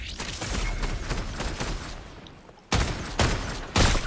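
Gunfire in a shooter game, a loud burst of rattling shots followed by a quieter stretch, then several sharp, close blasts in quick succession near the end.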